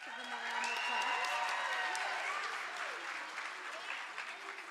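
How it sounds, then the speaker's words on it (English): An audience at a school winter concert applauds the Grade 4 students, a moderate, fairly distant wash of clapping with voices and cheers mixed through it, easing slightly toward the end. "Let's give them a round of applause"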